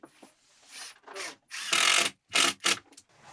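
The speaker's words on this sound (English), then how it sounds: "see if you can get those screws out" A screwdriver backs screws out of boards in short bursts of whirring and ratcheting, loud and close, with brief pauses between runs.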